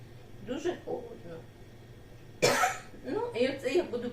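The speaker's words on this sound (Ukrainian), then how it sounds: "Так, що за кашель?" A single loud, harsh cough bursts out between stretches of nearby speech, over a low steady background hum.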